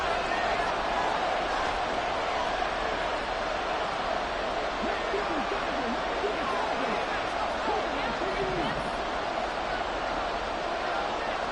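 A loud crowd roars continuously at a football game on third down, a dense steady wall of noise with a commentator's voice faintly underneath.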